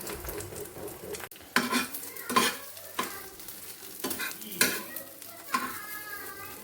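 Egg frying in a pan for an omelette, a continuous close sizzle broken by several sharp clinks and scrapes of a utensil against the pan, with no talking.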